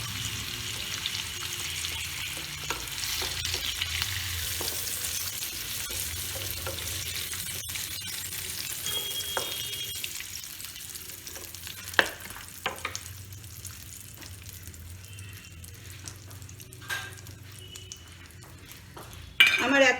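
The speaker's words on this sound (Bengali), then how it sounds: "আমার কুমড়ো ভাজা হয়ে এসছে, এবার আমি কুমড়োটাকে তুলে নিচ্ছি।" Pumpkin frying in oil in a pan, a soft steady sizzle running underneath with occasional clinks and scrapes of a utensil against the pan and a louder clatter near the end.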